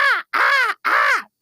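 A person imitates a crow's caw to call crows during a shraddh ritual, giving three loud, harsh, drawn-out caws with short pauses between them.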